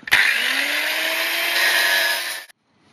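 A power grinder works on metal for a quadracycle build in a workshop, a loud, steady, harsh whine that starts abruptly and runs for about two and a half seconds before cutting off.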